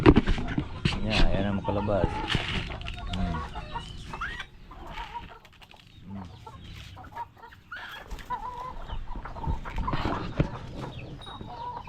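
Chickens cluck and squawk close by in a backyard flock, the bursts coming irregularly while people talk over and between them.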